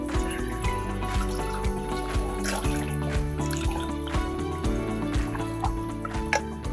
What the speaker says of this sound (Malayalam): ഈ വെള്ളം അരിച്ചിനി ഈ പാത്രത്തിലോട്ട് ഒഴിക്കും.